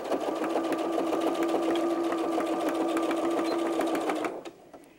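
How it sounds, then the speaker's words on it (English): A sewing machine stitching fabric for an 18-inch doll's sandal, a fast steady mechanical whir with rapid needle ticks, running close and continuous for about four seconds before stopping abruptly. "we're going to sew the inside curve as well as this outside curve"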